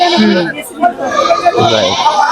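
Goats bleat a few times at close range at a roadside cattle market in Tangail, Bangladesh, their wavering cries mixed with people talking nearby.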